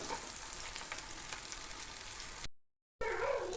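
Onions frying in a pan for jackfruit erissery, a faint steady sizzle that cuts out briefly before a louder burst of sizzling returns.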